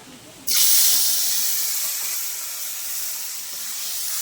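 Bay leaves dropped into a hot pan of oil for jackfruit biryani, setting off a sudden loud, steady sizzle that starts abruptly and hisses on evenly, close by, with no talking.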